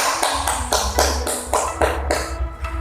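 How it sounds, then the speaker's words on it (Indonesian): Classroom applause during a micro-teaching chemistry lesson: a brief burst of rhythmic claps, close and fairly loud, about eight distinct beats in under three seconds. "Beri aplaus untuk kita semua."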